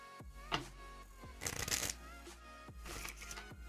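A deck of playing cards riffled and shuffled up close, with several crisp bursts of fluttering card noise, the loudest in the middle, separated by brief pauses.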